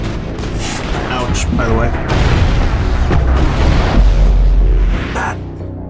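Missile blasts in the PC game Mass Effect, heavy booming explosions and rumbling impacts layered with gunfire, loud and close, with a voice speaking briefly over the combat.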